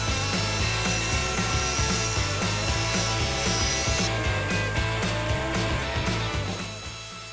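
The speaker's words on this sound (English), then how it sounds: "I had to trim them up on the table saw and cut them to dimension" A table saw cuts glued-up wood pieces to dimension, a loud continuous whining rip with the blade loaded for several seconds before the pitch eases as the cut finishes.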